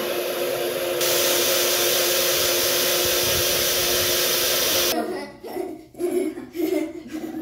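A blender whirs loudly and steadily for about four seconds while mixing a smoothie, then cuts off, leaving intermittent talk and laughter.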